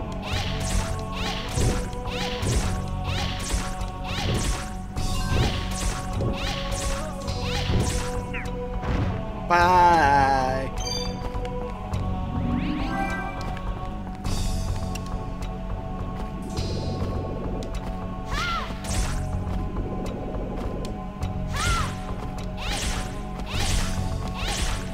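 Combat hits in the Dark Cloud video game: a steady run of sharp whacks and swishing strikes, fairly quiet, over constant background music with a few tonal game effects.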